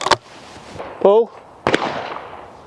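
Shotgun blasts at clay targets: two loud sharp reports about a second and a half apart, with a voice calling out in between.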